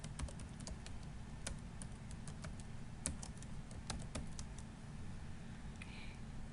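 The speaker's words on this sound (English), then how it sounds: "I'm going to type in the author's name." Fingers typing on a computer keyboard, a quiet, fairly even run of quick key clicks with a few louder taps, heard close against a low background hum.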